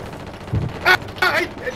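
Gunfire from a video game comes as a few short bursts of shots in quick succession, moderately loud, with players talking around them.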